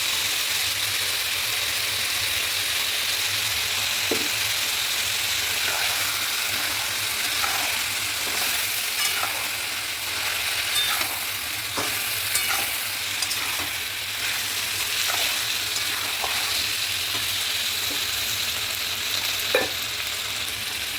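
Ground paste of ginger, garlic, onion, pepper and tomato frying for chicken rezala, a steady close sizzle with occasional soft clinks and scrapes of stirring, no voices.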